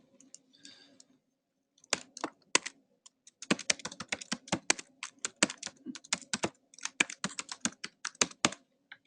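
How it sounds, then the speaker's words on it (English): Rapid clicking of keys on a computer keyboard, close and fairly quiet, in uneven bursts of typing with brief pauses. "typing in a name"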